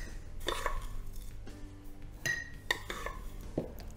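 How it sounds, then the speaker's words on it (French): A glass jar filled with oats and flour is tapped to settle the contents, giving a few distinct clinks and knocks at irregular intervals, quiet and close with no talk. "il faut tapoter un petit peu pour que tout soit bien tassé dans le fond du bocal"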